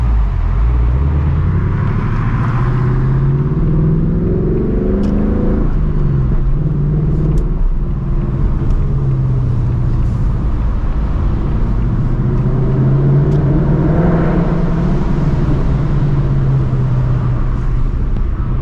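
A 2024 Ford Mustang GT pulls away from a traffic light, its engine note rising and falling through loud, close gear pulls with a constant deep rumble.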